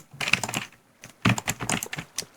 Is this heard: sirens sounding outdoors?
no